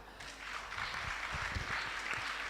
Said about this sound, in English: Everybody put your hands together and clap